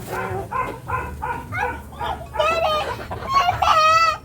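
Chickens cluck in a quick, repeated series, growing louder into several drawn-out squawks, close by and without any talking.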